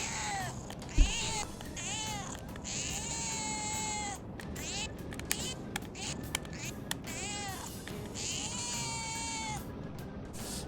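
Repeated cat meows from the small speaker of a PlayStation controller in Persona 5 Royal, a string of rising and falling mewing calls with a brief thump near the start.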